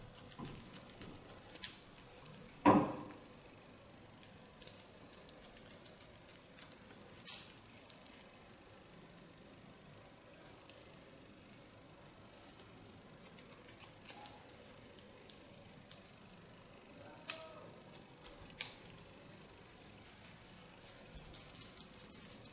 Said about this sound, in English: with a point cut technique, connect them to the side.